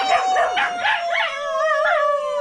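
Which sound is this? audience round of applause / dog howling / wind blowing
dog howling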